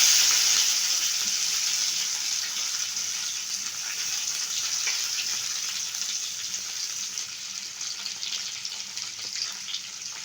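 Onion, curry leaves and green chili sizzle steadily in a hot pan for a special chapati dish, a continuous close crackling hiss that eases slightly over time, with no talking.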